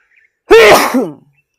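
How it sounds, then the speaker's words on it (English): A single loud, close sneeze, sudden and explosive, followed by a brief exhale, with silence around it. "Is that confirmation? I haven't sneezed in ages."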